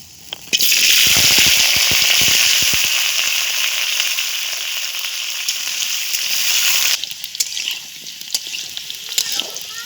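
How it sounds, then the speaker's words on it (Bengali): Potato pieces dropped into hot oil burst into a loud, gushing sizzle with sharp crackles at first, settling into a steady fry before quieting abruptly near the end. "এই তেলের মধ্যে আমি আলুগুলো ভেজে নেব।"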